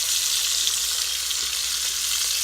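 Beef short ribs sear in a hot Instant Pot, giving a steady, close, even sizzle with no talking.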